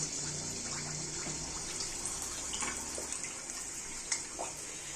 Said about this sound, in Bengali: তেলটা গরম হয়ে গিয়েছে। আমি এখন একটা পিঠা দিয়ে দিচ্ছি।